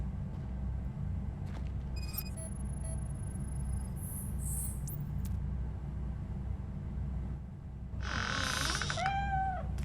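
A cat meows in the video game RoboCop: Rogue City, a short drawn-out mew near the end over a steady low ambient hum and chirping, insect-like background tones.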